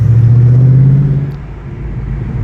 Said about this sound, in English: try to listen to those backfires when we do.